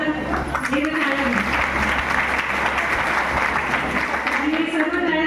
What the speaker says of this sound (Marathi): आणि सर्व टाळ्या तुमच्यासाठी आहे